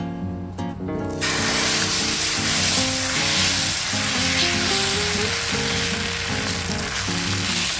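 Ragi and green gram dosa batter sizzling on a hot pan, a loud steady frying hiss close up that continues without voices.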